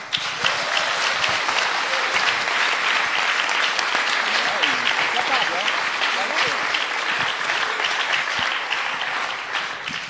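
An audience applauds steadily and warmly to welcome two authors at a live talk, dense continuous clapping filling the room throughout at an even level.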